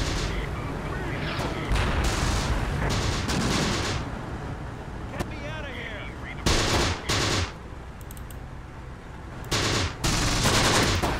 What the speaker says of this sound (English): There's that artillery support, or mortar support anyway.